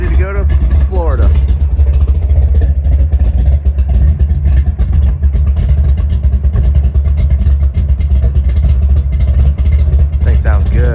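A Chevrolet Monte Carlo's engine running after cold, snowy weather, a loud steady low rumble throughout, with a voice speaking briefly over it near the start and end.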